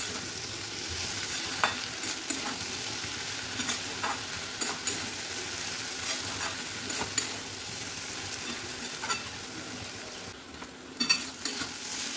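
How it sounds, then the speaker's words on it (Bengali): Fried prawns being sautéed in a pan, a continuous close sizzle broken by repeated scraping stirs of a spatula, with no voices. "চিংড়ি মাছটা দিয়ে 1-2 মিনিট মতন কষিয়ে নিতে হবে ভালো করে"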